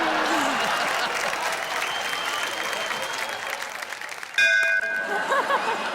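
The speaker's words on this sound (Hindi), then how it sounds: "आपकी ये जो घंटी है थोड़ी देर से बजी" A bell rings on a stage during a Hindi comedy poetry show, a clear ding with sustained ringing tones that cut through steady crowd applause and murmur near the end.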